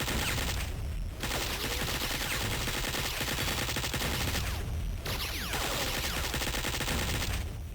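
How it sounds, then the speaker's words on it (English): Cannons fire repeatedly in Duke Nukem 3D, a dense, loud barrage of rapid gunfire-like blasts that pounds on continuously with only brief pauses. "So many cannons shooting at us."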